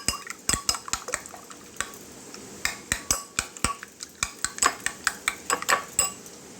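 Masoor lentils with dried chili powder and salt are beaten briskly with a spoon in a bowl, giving a fast run of sharp metallic clinks and taps, close and clear with no talk.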